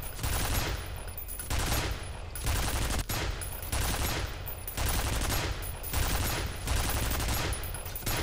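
Turret gunfire in the shooter game F.E.A.R. comes in repeated loud bursts of rapid shots, roughly one burst per second, with no one speaking.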